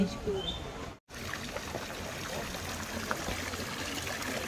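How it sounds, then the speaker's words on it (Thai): Water flows down from a mountain with a steady, soft rushing sound, continuous and even apart from one brief dropout near the start. "อันนี้จะเป็นน้ำไหลลงมาจากภูเขานะคะ"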